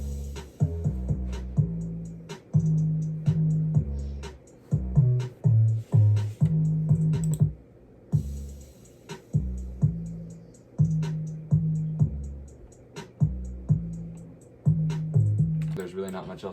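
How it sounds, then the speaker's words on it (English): A programmed drum beat built in FL Studio, with a deep booming 808 bass line under punchy kicks, snares and hi-hats in a steady looping pattern, loud and up front without any talking. "Altogether, the drums sound like this."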